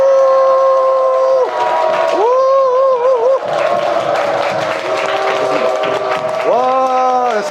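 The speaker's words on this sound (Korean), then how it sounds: "손을 한번 가운데 모으시고 3초간 박수 함성을 있는 힘껏 치는 겁니다" Audience at an economics lecture claps and cheers together for about three seconds on cue, a loud roar of clapping and shouting framed by a presenter talking before and after.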